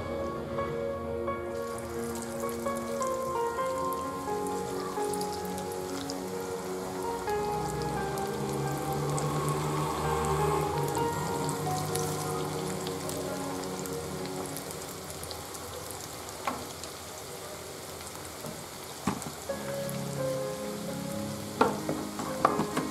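Prawn kebabs deep frying in hot oil over a medium flame, a continuous crackling sizzle with fine popping like rain, steady throughout with a few sharper spits near the end and no talking.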